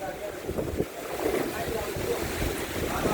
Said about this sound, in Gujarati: વરસાદ તો નથી પણ પવન છે ફૂલે ફૂલ.